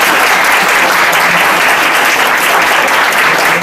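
An audience at a medical humanities lecture applauds, dense, loud and steady clapping from a crowd lasting throughout with no talking over it.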